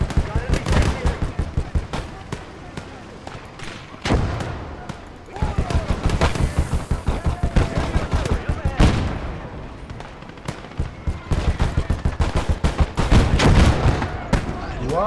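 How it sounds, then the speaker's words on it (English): Artillery fire and rapid gunfire from a video game battle, set in a Kelly's Heroes scenario, with dense repeated shots and heavy blasts sounding throughout under occasional talk. "Rounds incoming. Artillery."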